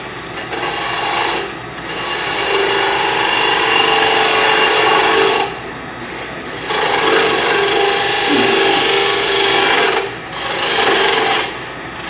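Woodturning tools cut a natural edge winged bowl on a lathe, giving loud, close, continuous rasping and scraping in long passes that break off into short pauses every few seconds.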